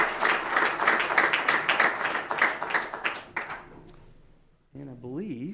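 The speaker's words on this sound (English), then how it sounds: "Let's give him a round of applause again." Applause from a graduation-ceremony audience at an engineering technician apprenticeship event, dense clapping for about four seconds that fades out, followed by a brief stretch of speech.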